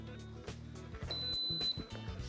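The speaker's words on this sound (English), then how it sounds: "We should get our countdown soon." A single steady electronic beep tone from an Instant Pot pressure cooker rings out over a rhythmic background of low repeating sounds, clear but not loud.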